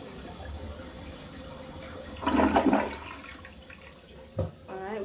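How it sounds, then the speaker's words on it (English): A household toilet flushes after Rid-X septic treatment is added, a close rushing gush of water that swells and fades within a couple of seconds, followed by a faint brief splash and quiet trickling. "So I am going to flush the toilet."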